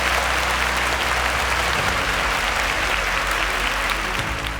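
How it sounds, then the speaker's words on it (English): Steady, loud applause from a quiz show audience for the contestants, dense clapping filling the whole stretch without a break. "A round of applause for them."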